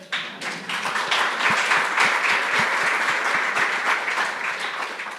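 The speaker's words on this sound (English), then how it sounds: "that deserves applause" A lecture audience in Budapest breaks into dense, sustained applause, loud and close, with a few sharper individual claps standing out from the steady roar.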